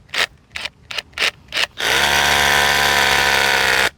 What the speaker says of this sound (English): when you are drilling into concrete with a masonry bit, you've got to continually pull up